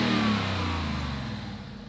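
A Ford Mustang GT Bullitt, a salvage-auction car with a custom single-exit exhaust, revs up close and loud, its engine note climbing and then settling into a sustained, throbbing drone.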